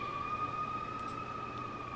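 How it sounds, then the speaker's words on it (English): Emergency vehicle sirens sound from outside as a steady, sustained tone at moderate volume beneath a low background hum, with no talking. "fun sirens."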